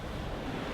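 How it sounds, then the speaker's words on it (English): Broadband wind and sea wash while sailing wing on wing at around 7 knots under cloudy, squally skies, a steady close roar with no voices. "the wind picked up a little bit, so now we're actually doing around 7 knots"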